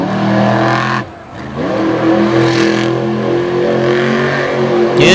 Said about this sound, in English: Into the donuts, gonna rip up those race lanes a little more as he just took another big chunk out of the ramp